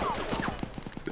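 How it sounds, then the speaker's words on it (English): Rapid gunfire in a Roblox shootout, a quick rhythmic run of sharp shots under a faint game ambience, moderately loud and a little distant. "Hey, who's shooting at me?"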